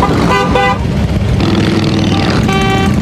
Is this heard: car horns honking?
yes